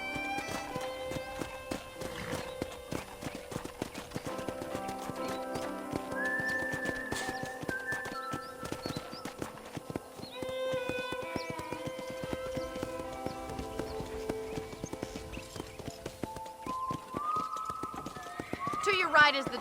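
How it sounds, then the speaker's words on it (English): Horse hooves clip-clopping at a walk in the video game Red Dead Redemption, steady and close, with an occasional whinny, game music and a voice talking over them. "I picked out a fine horse for you."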